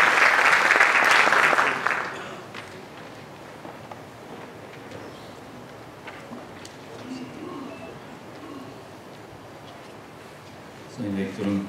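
Applause from a symposium audience in a Turkish university hall welcomes the faculty dean to the stage, a loud burst in the first two seconds that quickly fades, followed by quiet room noise and faint movement.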